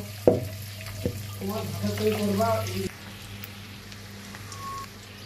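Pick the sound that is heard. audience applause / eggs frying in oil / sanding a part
eggs frying in oil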